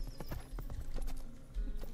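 Horse hooves clip-clop in steady, close, repeated beats as a rider moves through the medieval game Rustler, with a faint neigh and a continuous background hum.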